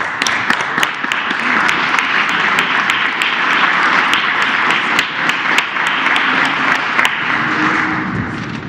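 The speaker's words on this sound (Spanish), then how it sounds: "Un aplauso." A crowd applauds at a presidential press conference in Mexico, loud sustained clapping filling the room for the whole stretch, with no voice rising above it.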